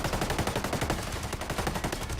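Rapid automatic gunfire in the tactical shooter Ghost Recon Breakpoint, a dense, loud, continuous burst of evenly spaced shots with no voices over it.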